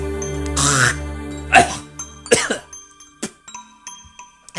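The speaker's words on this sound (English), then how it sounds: "Your cough..." A man coughs in several harsh, close bursts, then clears his throat in a string of shorter, fainter hacks over a quiet musical backdrop.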